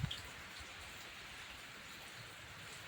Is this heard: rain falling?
yes